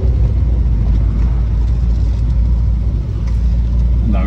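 A 1500 MG Midget's engine runs loud and close while driving, a heavy low rumble with a brief dip near the end, no talk over it.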